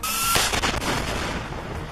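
SAM-7 missiles fired at Israeli aircraft and drones in a Gaza combat zone: a sharp, loud launch blast followed by a sustained roaring, rushing rumble that holds steady at close range with no talking.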